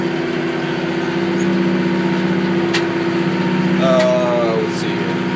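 McCormick tractor engine held at about 2,000 RPM while pulling a brush hog for light mowing, a steady loud drone with a faint whine rising briefly near the end.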